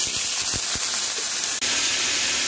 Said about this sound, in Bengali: আমি এবারে বরবটিগুলো ভাজার জন্য দিয়েছি।